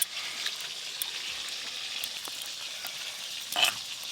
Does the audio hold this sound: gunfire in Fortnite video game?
no